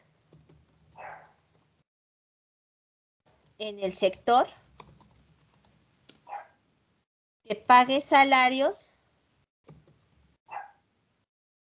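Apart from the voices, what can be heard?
dog barking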